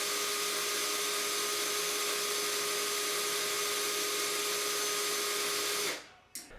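A drill spinning a length of coil wire to straighten it whines at a constant high pitch for several seconds, then winds down and stops.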